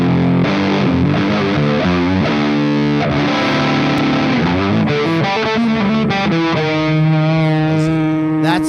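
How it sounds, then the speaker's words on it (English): Heavily saturated fuzz-toned electric guitar plays a loud, continuous riff with sustained chords and shifting notes, alone, in a demonstration of fuzz as distinct from distortion in a band retrospective. "This is fuzz."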